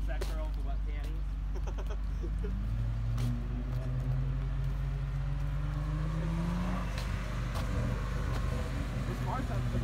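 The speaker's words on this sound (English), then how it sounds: "This car sounds pretty neat." A car's engine runs steadily at a Meijer car meet, a low continuous drone with a brief rising rev midway, heard under people chatting nearby.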